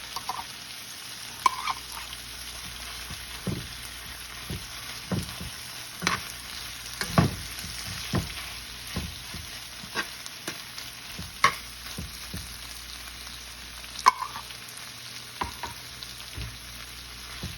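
Corned beef fries in peanut oil with a steady, close sizzle broken by frequent crackles and pops, plus occasional scraping as it is stirred in the pan.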